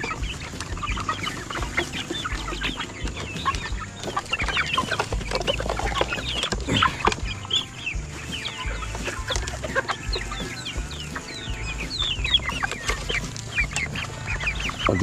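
A flock of chickens clucks and squawks noisily while being fed grain, many birds calling over one another at close range in a busy, continuous farmyard chorus.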